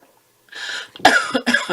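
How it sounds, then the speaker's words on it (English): A close, loud cough: a brief inhale followed by two harsh bursts in quick succession. "I'm going to cough and I need to take a drink"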